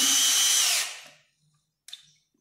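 A Makita cordless screwdriver-drill whines at high speed, then spins down and stops. A brief click or rattle follows in the quiet.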